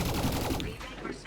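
Rapid bursts of gunfire from a new weapon in the video game Elite Dangerous: Odyssey, a dense, loud stream of shots lasting about a second with no talk over it.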